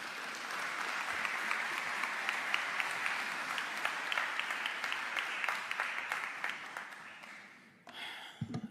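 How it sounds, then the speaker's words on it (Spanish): An audience at a congress event on the role of the family in society applauds loudly to welcome Agustín Laje Arrigoni, with dense sustained clapping for about eight seconds that fades before a brief noise from the stage. "Fuertes aplausos."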